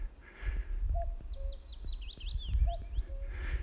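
A cuckoo gives its two-note call twice, moderately close, amid high chirping songbirds along a wooded beck walk near Harden in West Yorkshire, with no talking.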